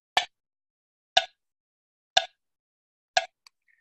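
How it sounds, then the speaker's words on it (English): A metronome ticks out a steady beat, four crisp clicks evenly spaced about a second apart. A faint small sound follows at the end. "what you're going to hear is the metronome, and the metronome is keeping the steady beat."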